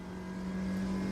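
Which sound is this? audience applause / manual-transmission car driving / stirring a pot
manual-transmission car driving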